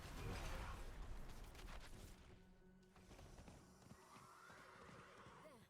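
A horse in the Diablo 4 game neighs in a rising whinny over clip-clopping hooves and a dense bed of background game effects, with no one speaking.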